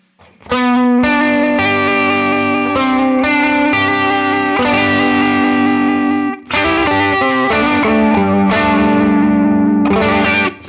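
Electric guitar chords played through a Boss VB-2 vibrato pedal with the depth set low, loud strummed phrases with a pitch wobble, a brief gap midway, then more chords.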